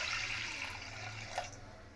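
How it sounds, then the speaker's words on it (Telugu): Water pours steadily into a pot of washed toor dal, a continuous splashing rush lasting about two seconds, close and fairly loud. "ఇప్పుడు దీంట్లో వాటర్ వేస్తున్నాను."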